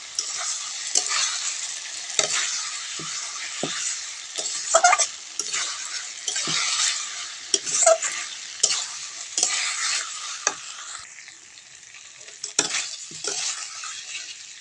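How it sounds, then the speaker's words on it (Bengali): Fried potatoes being stir-fried with spice masala in a pan for aloo dum, a steady close sizzle with repeated scraping and stirring strokes of a spatula, no talking. "ভেজে রাখা আলুটা দিয়ে মশলার সাথে ভালো করে কষিয়ে নেব।"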